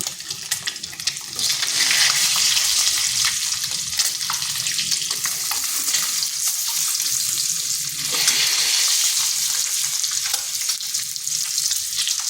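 Eggs fry in hot oil in a pan, a steady close bright sizzle that swells in intensity partway through and runs unbroken with no talking.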